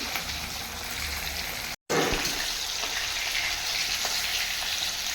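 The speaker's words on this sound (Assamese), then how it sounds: "মাছটো সুন্দৰ ৰঙা হোৱাকৈ ভাজি ল'ম।" Fish frying in hot oil in a kadai until it turns red, a close, continuous crackling sizzle interrupted by a split-second gap, then carrying on just as loud.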